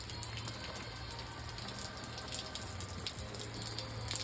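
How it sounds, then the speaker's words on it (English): Steady rain falling outside a garage in South Florida, a continuous even hiss of drops heard from indoors with no speech. "raining down here in South Florida."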